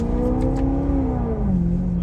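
A Maserati Quattroporte GTS engine pulls hard under acceleration, its steady, rising note sustained and close for about two seconds with no talking over it.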